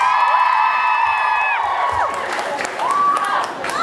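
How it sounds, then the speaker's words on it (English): A live show crowd at FutureProof Academy in Islington, London cheers, whoops and claps in a dense, loud mass of voices that swells and dips, with a few high sustained shouts rising above the roar. "That was supposed to be the biggest cheer of the night."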